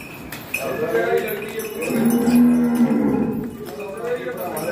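A 14-year-old cow moos loudly and close by, one long low drawn-out call, with faint clinks and farmyard background noise at a livestock sale.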